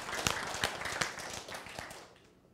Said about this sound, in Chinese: 掌声也要有劲.